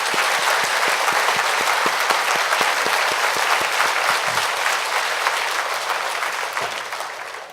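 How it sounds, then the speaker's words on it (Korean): A church congregation at an evening revival service applauds, dense sustained clapping from many hands filling the room and slowly tapering off at the end. "우리 한번 감사와 우리 축복의 박수 한번 올려드리겠습니다."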